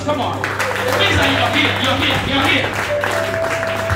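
Church congregation clapping together in steady rhythm, a continuous dense patter of hands filling the room while voices call out over it.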